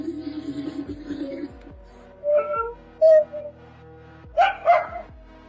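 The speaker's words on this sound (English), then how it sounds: "Nearby dogs can also be heard barking in the distance during the recording." Dogs bark somewhere down an empty night street, a few separate barks and yips heard from a distance, fairly faint and echoing, with no talking.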